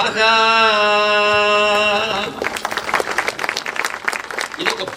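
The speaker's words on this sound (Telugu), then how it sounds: "ఆనందించి చప్పట్లు కొట్టారు" A sustained chanted vocal tone gives way to a burst of loud audience applause that fills the second half, dense clapping from a crowd at a spiritual discourse.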